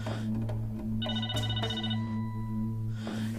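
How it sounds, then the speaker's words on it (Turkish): A telephone rings in a Turkish TV drama scene, its bright electronic trill sounding in two bursts over a steady low hum, close and clear, with no talking. "Nazire, telefonun çalıyor."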